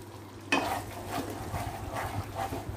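A spoon stirring thick honey chilli sauce batter in a pan for honey chilli potatoes, with a soft close scraping and faint sizzle under a steady low hum and a few gentle strokes.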